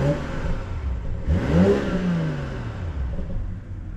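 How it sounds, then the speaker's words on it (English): A 2021 BMW 540 LCI engine revving in Sport Plus mode, a single rising rev that climbs and then falls away, smooth and somewhat muted, heard close up without talk. "I do hate how the car sounds. Well, not hate, it's just like it's a vacuum."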